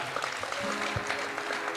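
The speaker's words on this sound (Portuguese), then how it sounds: "Você pode aplaudir o nome do Senhor nesta manhã." A church congregation claps together during a Portuguese-language service, a short, dense burst of applause that continues evenly with a faint voice underneath.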